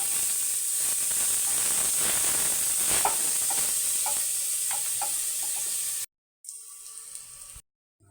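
Garlic sizzling in a small amount of cooking oil for pinikpikan with bitter melon leaves: a steady, soft frying hiss with faint crackles and light stirring clinks, cutting out briefly near the end.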